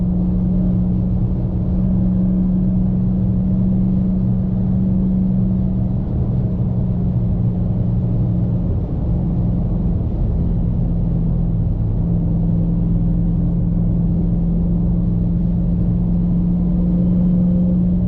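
2020 Dodge Charger Hellcat Widebody with an aftermarket intake, heard from inside the car as a loud, steady low engine rumble under acceleration with a sustained supercharger whine holding throughout and no talk.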